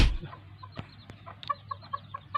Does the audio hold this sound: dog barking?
no